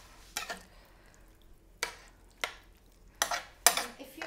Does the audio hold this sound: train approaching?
no